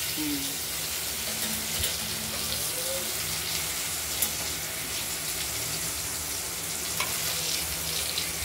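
Ash gourd slices slit and stuffed with poppy seed and green chili paste fry in oil, giving a steady even sizzling hiss with occasional faint pops, no talking.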